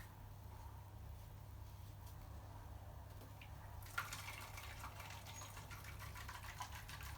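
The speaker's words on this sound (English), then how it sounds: "We're just shaking the milk," Baby bottle of formula powder and water shaken to mix, a steady watery sloshing and rattling that picks up after a few seconds, fairly faint over a low constant hum.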